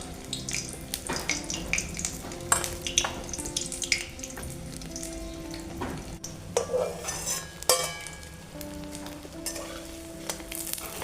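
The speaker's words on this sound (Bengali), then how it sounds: "খুব তাড়াতাড়ি ভাজা হয়ে যাচ্ছে, কারণ উনুনের জালটা খুব ভালো জ্বলছে।" Crisp Malabar spinach leaf fritters, village style, frying fast in a pan over a strongly burning clay stove: constant close sizzling with scattered clinks and scrapes of utensils and no talking.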